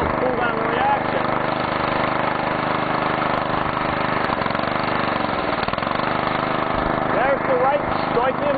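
Engine running on wood gas produced by a charcoal gasifier, with carbon dioxide fed back through an exhaust return valve; a steady, loud, continuous idle-like drone fills the whole stretch with no voices.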